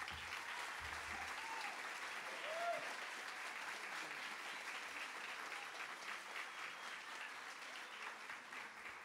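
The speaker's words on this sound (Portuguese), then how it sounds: "Uma salva de palmas, doutora Ana" At a solemn city council ceremony, an audience applauds an award recipient with a continuous, even round of clapping that sounds somewhat distant and lasts throughout.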